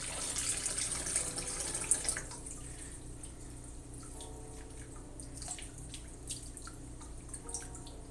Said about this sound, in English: If we need to pour some of it off, which I think we do, we're just going to take it over to the sink here.